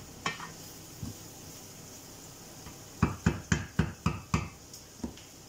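Paprika sizzling in a pan with a stew of hake fillets and potatoes underway, a soft steady fry beneath a run of sharp, rhythmic clacks as a utensil stirs and scrapes against the pan, mostly close together near the end.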